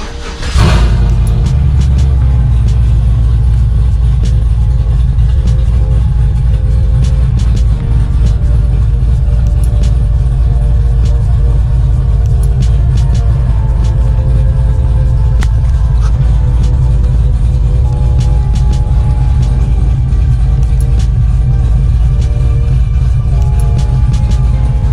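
A 2008 Chevrolet TrailBlazer SS engine idles loudly and steadily, a deep, continuous rumble close by that stays strong and even from start to finish with no talk over it.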